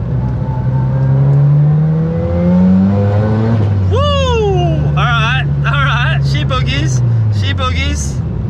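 A Mazda FD RX7 rotary engine pulls hard with a rising, buzzing drone, then surges as the second turbo comes on, with sharp rising revs and quick gear changes; someone talks over the engine.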